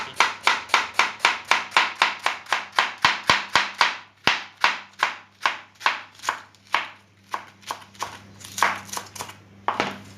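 A knife chops through half a head of iceberg lettuce on a board in rapid, steady strokes, dozens of crisp close thuds in quick succession, slowing slightly toward the end, with no talk.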